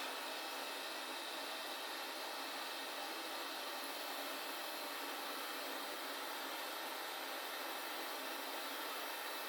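A hot air rework station reflows a chip on a board with missing heatsinks, producing a steady, unbroken airy hiss that stays even and close throughout.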